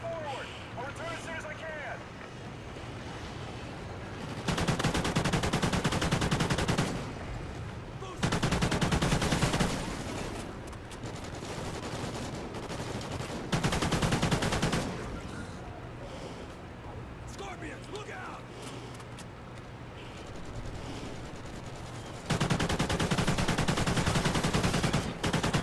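Assault rifle fire in Call of Duty Ghosts, bursts of automatic shots coming in several loud stretches between quieter game ambience, with a voice talking at times.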